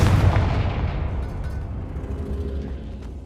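A deep, heavy boom from the Confringo blasting spell in Hogwarts Legacy, loudest at the start, followed by a long rumbling decay that fades over about three seconds.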